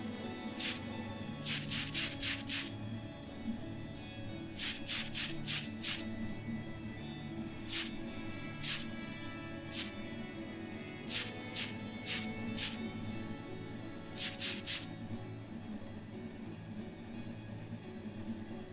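Short bursts of an aerosol spray can misting paint onto a Matchbox Allis Chalmers motor scraper model, hissing in quick clusters of puffs over a steady low background hum.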